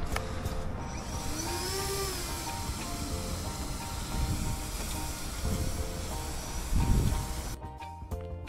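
A large 3D-printed RC Lockheed L-1049 Super Constellation model taxiing on the ground, its electric motors giving a steady whirring drone with rising and falling pitch that runs through the clip before cutting off near the end.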